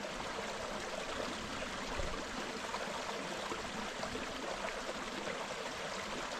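A woodland stream rushes steadily near a waterfall, a close, continuous broadband wash of flowing water with no pauses and no voices.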